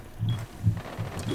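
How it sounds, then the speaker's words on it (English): A magazine swap reload in Rainbow Six Siege: a few quiet mechanical clicks and clacks in quick succession, close and soft, with faint background game ambience. "Swapping mag."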